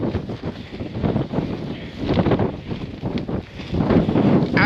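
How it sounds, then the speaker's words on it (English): Wind gusting across a wild camp on Fur Tor, Dartmoor, buffeting the microphone and a pitched tarp in surging, uneven waves of rushing noise, close and fairly loud with no speech. "It's quite windy."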